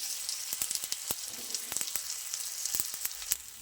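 Crackling sizzle of patra balls frying in hot oil with green chillies and curry leaves, a steady bright hiss dotted with sharp pops and spatters, close and alone.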